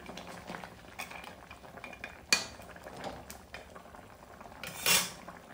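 A metal lid clanks down onto a pot of simmering shukto gravy, a sharp ringing knock followed later by another metallic clatter amid faint bubbling and utensil sounds, with no speech.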